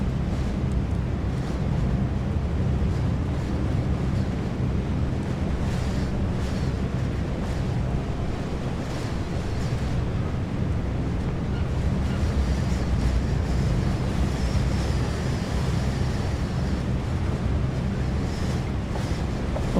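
Wind blows steadily in the horror game Uncanny Tales: The Watcher, a dense, unbroken roar like surf that holds at a constant level without a pause.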